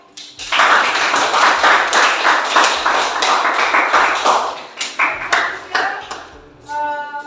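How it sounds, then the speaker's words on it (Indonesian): Classroom applause for a group that has just presented, a burst of clapping from several students lasting about six seconds with uneven, overlapping claps, then fading as a brief chime-like tone enters at the end. "Kalau cukup, kita kasih aplaus untuk kelompok ini ya."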